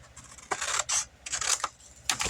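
Scissors cut out a paper craft tag in a handful of quick, close snipping bursts separated by short pauses.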